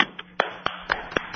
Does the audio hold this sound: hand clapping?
yes